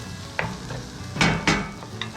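Tomatoes toasting in a pan over high heat, a steady low sizzle with a few sharp stirring scrapes standing out, close and moderately loud.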